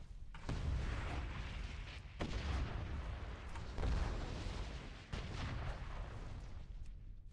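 Explosion effects from an Arms Warrior's attacks in World of Warcraft, a dense series of heavy booming blasts with sharp onsets around one, two, four and five seconds, rumbling loudly and continuously with no talk.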